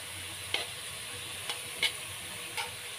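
Sweet potato (kamote) pieces fry in hot oil with a steady, close sizzling hiss, broken by a few sharp crackles and pops.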